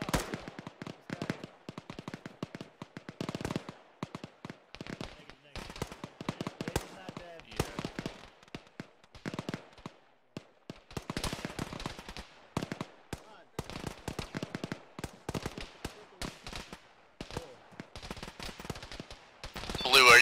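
Gunfire in the military shooter game Arma, with irregular bursts and single shots cracking near and far over about twenty seconds while voices talk at times.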